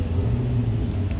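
A C8 Corvette with the Z51 package idling nearby, a deep low rumble with steady burbling pulses throughout a brief moment.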